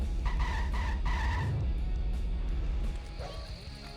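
A car skids in a race in Simpsons Hit & Run, with a loud tire squeal over a rumbling engine and collision-like thuds, then the engine drones on more quietly.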